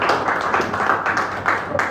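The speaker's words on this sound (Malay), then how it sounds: "Tepuk tangan untuk Fahim." A primary-school class in a Year 3 Malay lesson applauds a student, with many small hands clapping together in a dense, steady patter that fills the room.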